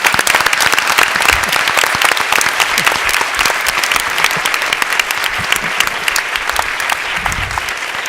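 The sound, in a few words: audience applause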